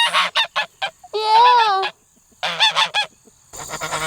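A goose honks loudly and close in a home garden, a long harmonic call in the middle of the clip, with a person's brief talk before and after it.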